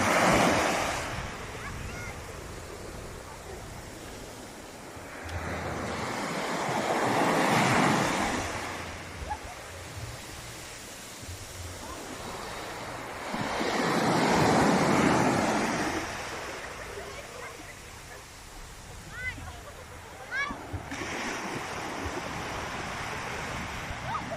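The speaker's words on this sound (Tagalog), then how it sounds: "hindi nawawalan ng alon mga kalakbay" Ocean waves roll onto the shore of Sta. Ana, Cagayan, breaking in slow, regular surges, with steady wind noise between them.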